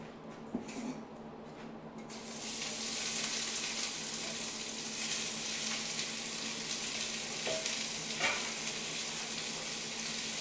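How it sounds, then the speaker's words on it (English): Onion sizzling steadily in hot oil in a pot, a constant close frying hiss with light stirring scrapes throughout. "Stir up our onion. We might need a little bit more oil for this"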